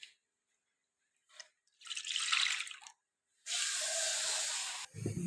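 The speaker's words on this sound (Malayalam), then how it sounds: "അതിനായിട്ട് ഒരു പാൻ എടുത്ത് അതിലേക്ക് ഒരു 1/2 ലിറ്റർ പാൽ ഒഴിച്ചു കൊടുക്കാം" Half a litre of milk poured into a pan, heard as a steady pouring hiss lasting a second or two, then a longer, louder continuous stream, with small clinks and drips between.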